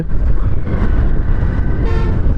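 Dense traffic jam on the Gournadi highway in Bangladesh, a loud steady roar of engines with horns tooting and honking close by throughout, no voices.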